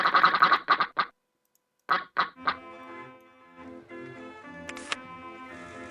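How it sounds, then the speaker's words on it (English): Cartoonish duck quacks from OpenRCT2 come in quick bursts, a cluster of four then three more after a short gap, followed by soft background music with a brief high chime. "And we're getting ducks! There's ducks!"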